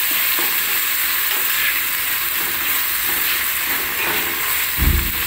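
Chopped tomatoes and curry leaves fry in a pan, producing a continuous close sizzle and hiss with soft scraping stir strokes and a dull knock near the end.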